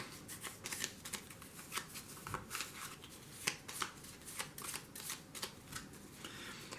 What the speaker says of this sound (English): So you shuffle these other 6 cards up.